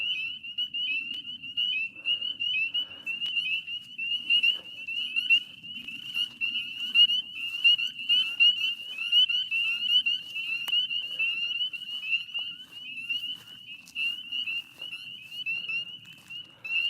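A dense, unbroken chorus of frogs at an off-grid homestead pond at night trills steadily at a high pitch, moderately loud and even throughout, with faint low rustle beneath and no voices.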